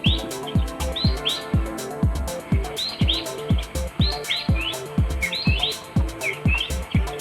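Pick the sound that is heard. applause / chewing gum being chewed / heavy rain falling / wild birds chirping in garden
wild birds chirping in garden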